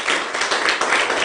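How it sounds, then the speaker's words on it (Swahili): A room of students breaking into brief, dense applause, a steady wash of many hands clapping at once close by. "Makofi kwa Tasha."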